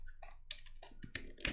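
Typing on a computer keyboard while entering Python code, a quick irregular run of close, crisp key clicks with no voice over it.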